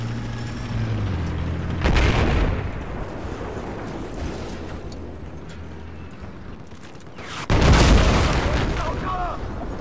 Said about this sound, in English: Cruise missile, Jesus.